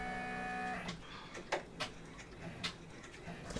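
An embroidery machine stitching a cabin placement guide onto fabric, heard as a steady mechanical hum with sparse ticking and clicking taps, fairly quiet and close, with no voices.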